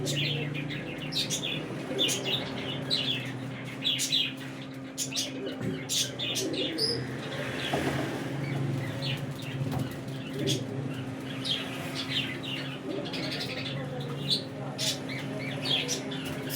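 A flock of pigeons kept by a dealer coo and chirp near at hand, with occasional bursts of flapping wings. Sharp calls overlap a soft, steady background murmur.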